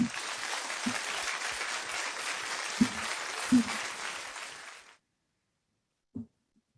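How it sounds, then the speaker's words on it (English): Audience applauding a first-place research presentation at a university colloquium, a dense round of clapping lasting about five seconds with a few louder claps, then cutting off into silence broken by one brief thump. "Let's give a big round of applause to Anthony Giardi for his first place presentation"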